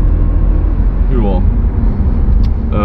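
Audi A5 Sportback 1.8 TFSI facelift accelerating, a steady loud engine drone with a rising tone sweep from inside the car, dense road rumble throughout.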